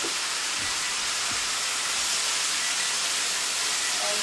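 A loud, steady broadband sizzle from sauce hitting a hot pan of chicken chow mein noodles, continuous hissing without pause and no talking.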